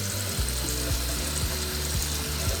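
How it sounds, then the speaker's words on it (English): Cooked spaghetti and its hot water poured into a colander in a home kitchen, a steady watery rush with splashing that runs through the short stretch over a low repeating background tone. "I'm just going to pour this in here, in this colander."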